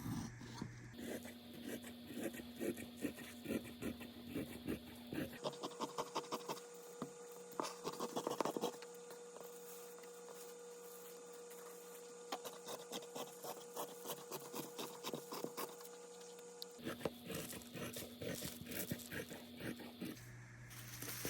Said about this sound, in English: we're going to cut right next to that black line and cut out our ironing board cover